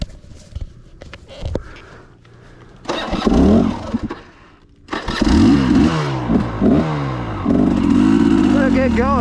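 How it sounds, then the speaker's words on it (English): A carbureted KTM 300XC-W two-stroke dirt bike with an RK Tek head idles and blips, then pulls away hard with rising, crackling revs through the gears, close and loud, with brief talk early on. "I basically came to a stop in second and just rolled into it, and it accelerates."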